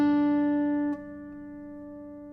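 A 1935 replica Martin D-28 acoustic guitar with Brazilian rosewood back and sides and an Adirondack spruce top rings out a single sustained note, clear and close, decaying slowly with rich overtones after a slight drop near the start.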